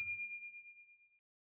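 A single clear bell ding for a subscribe notification rings out at once, its bright metallic tone decaying smoothly over about a second into silence.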